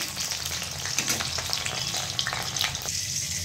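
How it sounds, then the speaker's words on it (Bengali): Vegetables fry in hot oil with a steady, close crackling sizzle and scattered sharper pops throughout, no voices over it. "ঠিক আছে, এইগুলো সব ভাজবো"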